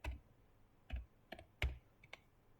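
Several distinct keystrokes on a computer keyboard while entering an enable command on Cisco network equipment, separate clicks spaced unevenly over a few seconds, close and fairly quiet with no talking.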